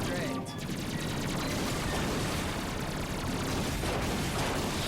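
Dense, continuous gunfire and blasts from the Ratchet and Clank PS4 video game, a steady roar of rapid shots and explosions filling the whole stretch, with faint voices mixed underneath.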